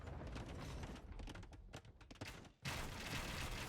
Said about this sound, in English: Did that bombard cannon just get a whole lot of kills there just now?